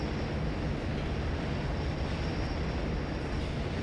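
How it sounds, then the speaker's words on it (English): A tram in the game FEAR 2 rolling in, a steady broadband rumble and hiss with a faint high whine, loud and continuous with no voices. "Did that tram just pull up and catch up with us?"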